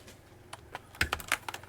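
Typing on a Logitech G710 mechanical keyboard: a quick run of close, crisp keystroke clicks, sparse at first and then bunching into a faster cluster, with no talking.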